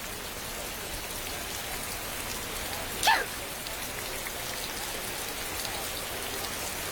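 Steady rain hisses down in a dense, even wash of drops, with a single sharp tap standing out briefly partway through.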